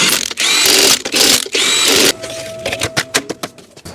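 Bolts on a Nissan Sentra rear strut being run down with a power tool: loud bursts of whirring and ratcheting in the first two seconds, then a steady faint tone with sharp metallic clicks and knocks.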